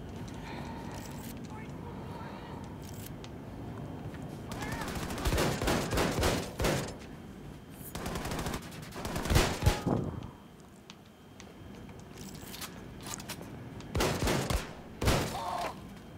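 Loud gunfire from a weapon in the video game Wolfenstein 2, heard as several separate bursts of rapid shots with gaps between them. Someone talks over parts of the shooting.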